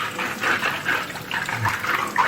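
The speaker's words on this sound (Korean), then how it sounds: "이제 흐르는 물로 깨끗이 씻어주도록 하겠습니다" Apples washed under a running tap, with splashing, gurgling water and rubbing of the fruit in uneven bursts, close and fairly loud, no voices.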